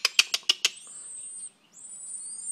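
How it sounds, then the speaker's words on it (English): Baby birds in a nest give a quick series of five sharp, high peeps close by, followed by thin, drawn-out high-pitched calls with a brief pause between them. "Here they are peeping again."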